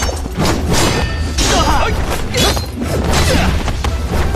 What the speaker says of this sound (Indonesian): Lindong menciptakan sebuah ledakan sebagai pengalihan agar ia bisa melarikan diri.